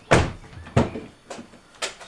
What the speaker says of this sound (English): So I'm just going to kick the tyre.